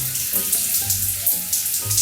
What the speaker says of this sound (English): the bathroom is just a box with running water